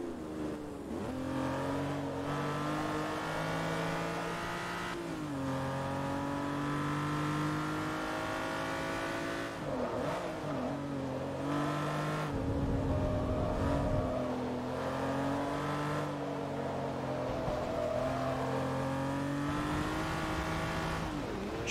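A Lamborghini Murcielago LP640 in the racing video game Forza Motorsport 3 holds a loud, sustained V12 engine whine, rising and dropping in pitch with gear shifts and braking dips, with no talk.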